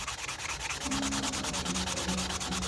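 Steady, continuous rasping of sandpaper rubbed back and forth by hand on a ney reed flute, close and fairly loud, with no pauses throughout.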